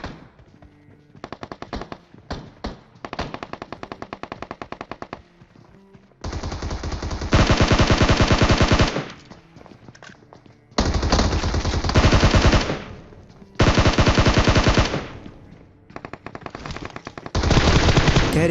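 Automatic gunfire in a battle royale video game, loud rapid bursts of machine-gun fire in repeated long volleys separated by short pauses, close and dominant with no talking.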